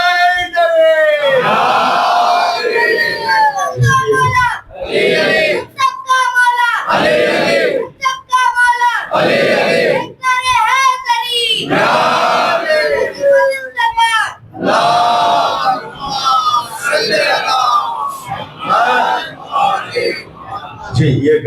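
A large crowd at a religious majlis for Imam Hussein in Silvassa shouts slogans in unison, loud and close, in rhythmic bursts separated by brief gaps.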